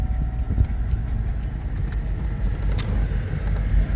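A 2003 Cadillac Escalade with a 6.0 engine, high mileage and a failed ignition switch, idling right after a push-button start: a low, steady close rumble of the engine with no voices over it.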